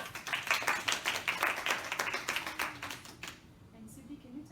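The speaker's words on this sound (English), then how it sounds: "big, nice round of applause." An audience gives a round of applause: a steady, dense patter of many hands clapping close by for several seconds, then fading into quiet with a faint voice.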